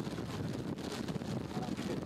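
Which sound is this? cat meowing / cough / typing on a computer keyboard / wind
wind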